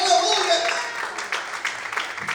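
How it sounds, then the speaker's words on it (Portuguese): Church congregation applauding, a dense wash of clapping that carries on steadily under a preacher's loud Portuguese-language speech. "Quem recebe esta profecia, aplauda e exalte a esse Deus nessa noite"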